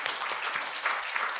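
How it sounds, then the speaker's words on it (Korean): A church congregation claps together at an evening Bible conference service, a steady, dense wash of hand claps filling the space without voices on top. "우리 하나님께 영광의 박수를 돌립니다."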